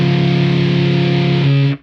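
A Yamaha EZ-EG MIDI guitar plays an octave with the middle string left unmuted. One loud, distorted, buzzing chord sustains evenly for under two seconds and then cuts off abruptly.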